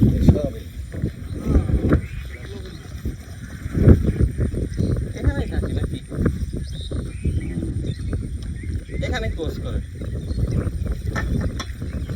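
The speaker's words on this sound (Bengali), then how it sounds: "আর একটু এগিয়ে মোটামুটি একটি নিরাপদ জায়গা বুঝে ট্রলারটি রাখবো" A trawler boat runs along the Padma river with a steady low engine rumble, heavy wind buffeting the microphone and faint voices mixed in.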